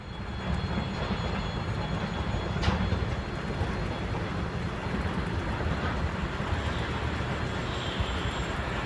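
Small Soviet-style tank locomotive with a red star on the front, moving in reverse, giving a steady broad rumbling roar throughout at fairly close range, with occasional faint clanks and a brief thump.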